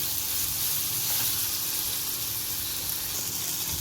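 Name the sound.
onion frying in pan for homemade pasta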